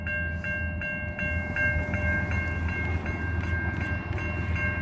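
A freight train locomotive sounds its horn in a steady, sustained blast over the deep rumble of the passing engine at a level crossing, loud and fairly near.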